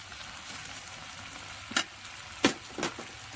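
Pasta going into a small wok at a winter riverside camp, a soft low sizzle broken by three short bright scraping stirs near the end.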